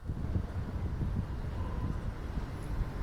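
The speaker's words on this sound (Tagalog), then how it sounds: "Ang lakas ng hangin." Low, rumbling wind buffets the microphone continuously, a steady blustery roar with no voices.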